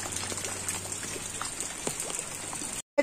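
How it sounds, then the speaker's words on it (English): Steady rain falls and drips at a rural home where rainwater is being collected, a continuous fine patter with scattered louder drops, close by and alone, cutting out briefly near the end. "Since it's raining,"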